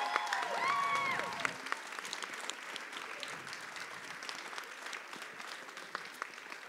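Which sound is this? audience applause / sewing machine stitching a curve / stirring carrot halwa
audience applause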